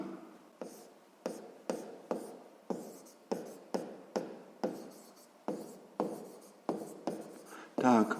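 Handwriting with a pen or pencil on paper while working a sixth-grade math exercise: a steady series of short scratchy strokes with brief pauses between them, close and clear, with no talking.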